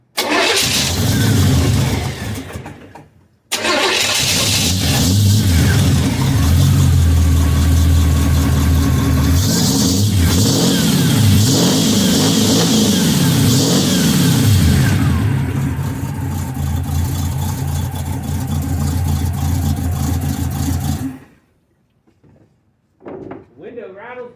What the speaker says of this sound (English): Okay, so that's the exhaust on the El Camino.